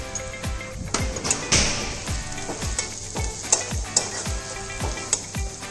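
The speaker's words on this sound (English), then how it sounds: "And saute till onion become translucent." Onions sautéing in a pan over a medium flame, a soft sizzle broken by regular sharp taps and scrapes of a spoon stirring, close and clear with no speech.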